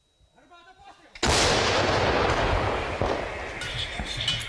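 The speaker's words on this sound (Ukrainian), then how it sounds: "Снаряд летить у бік Торецька." An artillery gun near Toretsk fires a shell in one sudden, very loud, close blast that rolls on as a long rumbling roar and echo, after a quieter stretch of voices.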